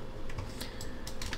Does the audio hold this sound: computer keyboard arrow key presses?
yes